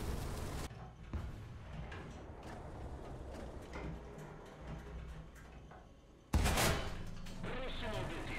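Rapid automatic gunfire in a shooter video game rattles faintly and continuously, with a louder burst near the end.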